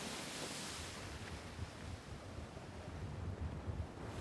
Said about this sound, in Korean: 레이캬비크 사람들이 주말에 즐겨 간다는 해변을 찾았다.